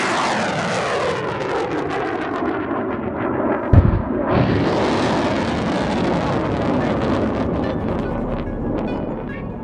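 A loud, roaring rocket launch blasts steadily for nearly ten seconds, with a sharp burst partway through before the rumbling thrust carries on, heard alone as a sound effect in a solar system lesson.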